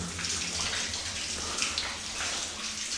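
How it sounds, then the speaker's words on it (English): Water falls and splashes inside a slate mine, a steady close rushing patter like a running tap, continuous for the whole stretch with no voices. "There's water falling through there."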